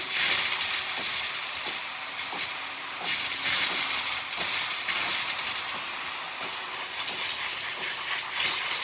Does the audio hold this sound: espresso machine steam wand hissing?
yes